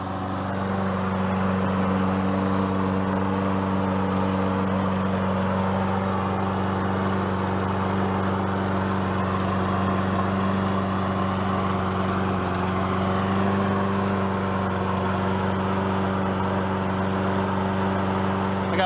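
A Toro lawn mower with a 6.5 hp Tecumseh engine runs close by at a steady, loud drone with a constant pitch for the whole stretch. No one talks.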